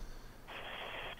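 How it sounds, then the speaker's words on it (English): A telephone touch tone sounds on a prank phone call, a steady band that starts midway and holds for under a second over faint line noise, with no talking. "Oh my God, quit hitting touch tones."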